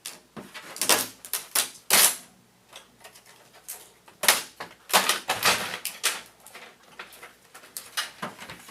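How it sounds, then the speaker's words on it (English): Stickers are peeled off a new HP Pro 400 M451dn color laser printer, giving a run of close, sharp crackling and ripping bursts with short pauses between pulls. "let me go ahead and peel off the Energy Star sticker. And we'll peel off some of the other stickers here"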